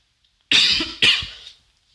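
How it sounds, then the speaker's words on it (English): Two quick, close coughs in a row, the second trailing off, in an otherwise quiet room. "I just had to cough there."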